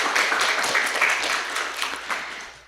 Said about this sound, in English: ladies and gentlemen, let's give applause for them